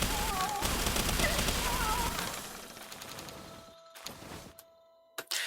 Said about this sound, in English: I'm gonna shoot in the air